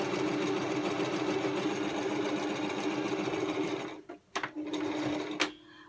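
A sewing machine stitches a seam on a fabric ear pressure reducing band, running in a fast, even rattle for about four seconds before breaking into a few short stop-start bursts.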